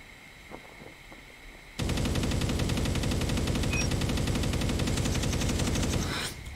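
Kilo 141 rifle fire in Call of Duty ranked play bursts in after a short quiet stretch, a loud, dense automatic rattle that holds steady for several seconds before cutting off.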